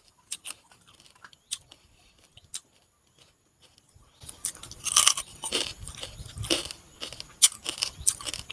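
Crab with crispy bones is chewed up close, at first in scattered sharp crunches and then in a busier run of loud crackling bites, with no talking.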